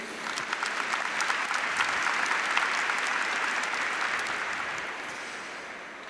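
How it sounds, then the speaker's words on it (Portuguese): A church congregation at a Pentecostal gathering breaks into sustained, dense applause, a full even wash of clapping that swells and then gradually tapers toward the end. "Palmas para o Senhor, nosso Deus"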